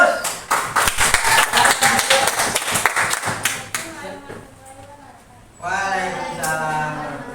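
An audience at a school counseling talk breaks into rapid, lively hand clapping for several seconds, close and loud, before it fades and a person starts speaking.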